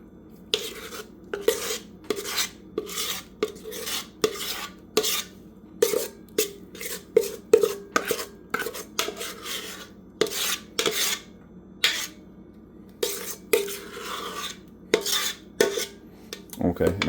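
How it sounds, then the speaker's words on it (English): Strawberry pound cake batter spooned into a bundt cake pan, a long run of close metallic scrapes and clinks of a utensil against the bowl and pan in uneven bursts, with brief quiet gaps. "I'm gonna add my strawberry cake batter evenly to my bundt cake pan"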